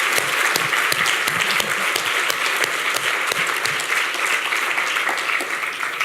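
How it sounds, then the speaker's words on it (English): Steady applause from a panel discussion audience for the panellists, a continuous patter of many hands clapping at moderate volume with no talk over it. "we just have a round of applause for, first of all, our wonderful panellists"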